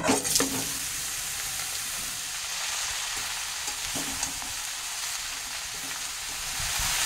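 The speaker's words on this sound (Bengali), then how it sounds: "এবার এই কুচনো লাউটা এর মধ্যে দিয়ে দিচ্ছি।" Chopped bottle gourd sizzles loudly in hot oil with fried tempering spices, a dense continuous frying hiss with a few soft scrapes of stirring, close up.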